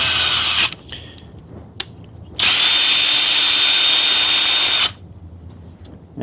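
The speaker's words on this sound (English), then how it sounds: "Power tapping these with a drill and slow speed." A power drill whirs in two bursts while tapping head bolt threads in a Mopar 360 engine, a short one first and then a steady, longer run at slow speed, with quiet pauses and small clicks in between.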